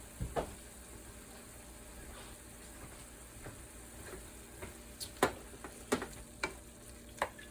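Spinach and turkey cooking down in a pan give a faint steady sizzle, broken by a few sharp clicks and scrapes of a utensil toward the end, close but quiet.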